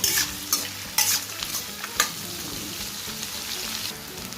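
Chopped onions sauté in a pan with a soft, steady sizzle, while a spoon scrapes and stirs in several distinct strokes in the first two seconds, then the frying continues more evenly, close up and without talk.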